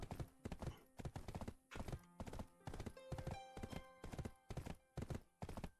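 Horse hooves clatter in a steady galloping rhythm in the online video game Black Desert Online, loud and close throughout with no talking over them.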